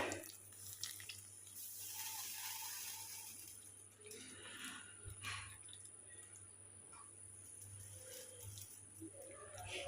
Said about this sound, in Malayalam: ഇതാ നമ്മളെടുത്ത് വെച്ചിരിക്കുന്ന രണ്ടാം പാലം ഒഴിച്ചു കൊടുക്കുവാണ് കേട്ടോ